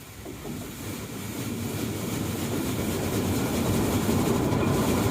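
A seed separator unit with VFD controls spins up, a steady low mechanical rumble and rattle that grows slightly louder over a few seconds, close by and without speech.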